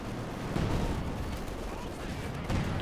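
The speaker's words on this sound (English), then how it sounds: "Holy smokes, mortar!" Mortar fire in Company of Heroes 2 during a Wehrmacht versus Soviet match, heard as dense booming blasts and rumbling battle noise throughout, with a voice talking over it.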